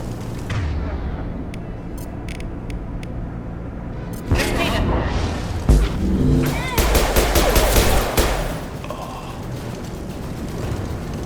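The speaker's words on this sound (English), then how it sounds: "Blue Suns and Vorcha shooting anything you want" Gunfire from Blue Suns mercenaries and Vorcha in the Mass Effect 2 Legendary Edition quarantine zone, with scattered distant shots early, then a loud burst of sustained automatic fire and impacts before fading back to a low rumble.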